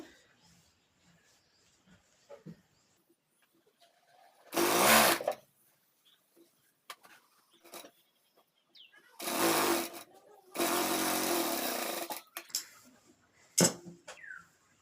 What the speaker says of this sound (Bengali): এবার এখানে এটা সেলাই করবো প্রথমে এখানে টাকি দিয়ে নেব